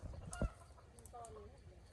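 Chickens clucking in a rural orchard being cleared for mango planting. A few short, faint calls sound at a distance over a low background rumble, with a sharp knock near the start.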